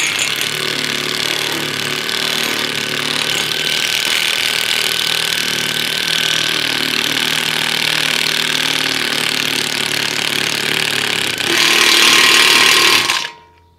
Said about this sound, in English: put your raw bolt in place, and then tighten your impact wrench